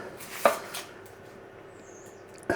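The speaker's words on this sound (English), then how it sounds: "I've got some red onions here, so" A knife strikes a board twice, once near the start and once near the end, as red onions are cut, with quiet room tone between the two crisp knocks.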